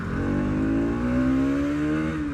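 Bajaj Pulsar NS200 BS6 fuel-injected motorcycle accelerating while being ridden, engine note rising steadily through the revs, close and continuous with no talk over it.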